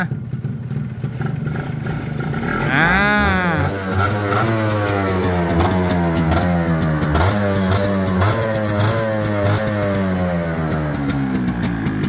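A Kawasaki Leo 120 SE six-speed motorcycle engine revs up close, rising sharply, then dropping and settling into a loud, steady, fluttering running note.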